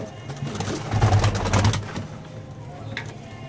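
Pigeons coo in low, throaty, repeated bursts, close by, over a steady background rush.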